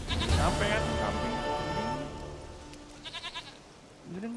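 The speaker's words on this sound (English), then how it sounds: "Goat of mine, dearest, sweetest goat." A goat in the video game The Witcher 3 bleats several times in quavering cries, mixed with game sounds and a player talking over it.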